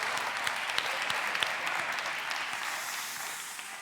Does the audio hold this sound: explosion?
no